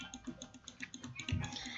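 Rapid computer clicks during a Bubble Gum Simulator game session come as a quick irregular series of light taps, close up, with faint background sound.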